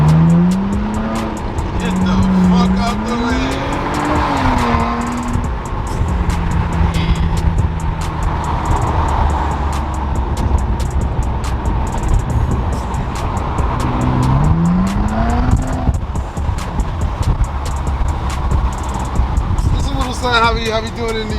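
A 2017 Nissan Maxima with straight pipes drives on New York streets, its loud raspy exhaust rising and falling as it accelerates and shifts, close up, with people talking and exclaiming over it.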